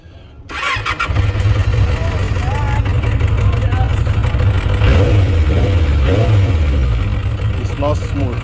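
A motorcycle engine with a misfiring cylinder starts up and revs steadily and loudly up close, its low uneven rumble running throughout, with some voice faintly mixed in.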